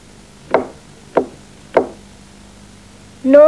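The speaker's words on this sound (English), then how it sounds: "Knock, knock," A door is knocked three times in an even rhythm, each rap crisp and near, and a voice begins singing just after the last knock.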